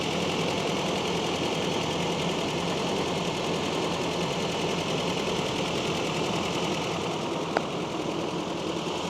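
A Series 3 Land Rover engine runs off choke at a steady, even idle, a continuous close mechanical chatter with a constant level throughout and one brief click near the end.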